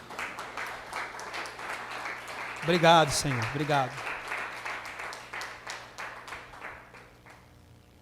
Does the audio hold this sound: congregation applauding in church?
yes